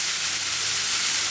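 Pointed gourd (potol) fries in oil with a steady, close sizzle and no talking.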